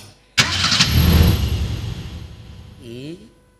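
A car engine cranks and catches with a sudden loud burst, then runs in a rough steady roar that fades, with a short squealing whine near the end.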